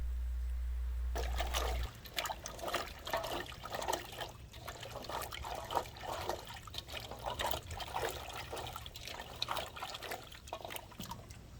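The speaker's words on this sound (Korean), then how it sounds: "이렇게 깨끗한 물로 여러 번 헹궈서 씻은 후에 채반에 건져 물기를 완전히 건조하여 사용하여야 합니다" Wild peaches being rinsed by hand in clean water several times to remove fuzz and stems, with steady splashing, sloshing and trickling close by in a bowl or basin, no talking.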